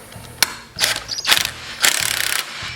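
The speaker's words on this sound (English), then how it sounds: "16mm socket" Ratchet with a 16mm socket tightening the left-hand-threaded clutch on a Chinese knock-off Stihl chainsaw: loud, close bursts of rapid clicking, ending in a steady rattling run.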